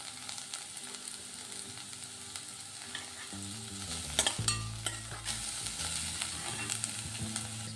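Curry leaves and grated carrot fry in a pan for bun dosa, giving a continuous close sizzle with stirring scrapes and a brief louder burst of spluttering midway.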